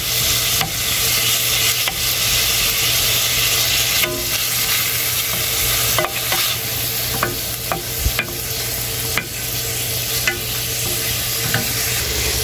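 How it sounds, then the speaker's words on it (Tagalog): Ground beef seasoned with black pepper sizzles steadily in a pan while a utensil stirs it, giving periodic scrapes and clicks against the metal. "stir natin muna para maluto sa loob niya"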